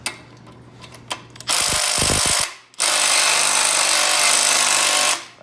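A Makita power tool runs during a Z31 cam swap, starting with a few sharp clicks, then a loud, sustained whirring burst, a brief pause and a second long burst close by.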